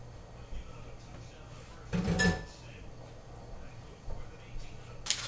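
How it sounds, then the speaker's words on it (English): A rubber spatula scrapes and knocks against a mixing bowl while mashed bananas are scooped into banana bread mix, one loud clattering scrape midway and a lighter knock at the end, with quiet kitchen background between. "I'm going to take my rubber spatula and scoop all the mashy bananas in there"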